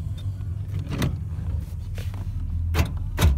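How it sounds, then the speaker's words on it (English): Power windows working in a 1986 Chevrolet Monte Carlo SS, heard from inside the car with several short motor whirs and a few sharp clicks and thumps, close and fairly loud over a low hum. "Power door locks work. Power windows work."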